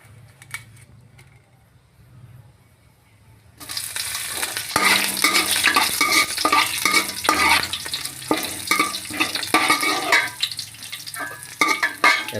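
Green chilies and whole spices for pulao hit hot oil after a quiet moment, bursting into a loud close sizzle and crackle with repeated stirring scrapes, and no talk.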